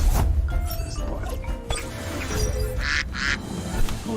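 A duck in a video game lets out a few nasal quacks amid busy game sounds and background noise, the calls clustered near the end and moderately loud.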